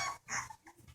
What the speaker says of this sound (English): Oh, you hear him growling?